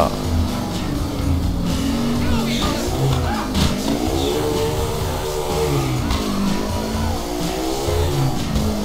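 Car engine in GTA IV revving and accelerating while driving, pitch rising and falling with gear changes, loud and continuous, with someone talking over it.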